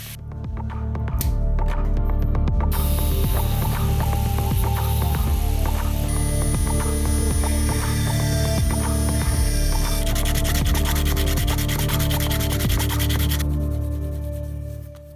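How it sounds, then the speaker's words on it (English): A steel clip being chipped and ground off a silver pendant makes a close, loud, continuous rasping grind with rapid clicking scrapes. It runs steadily throughout with no talking. "I had no choice but to chip away at the clip by various means to get rid of every bit of steel on the pendant"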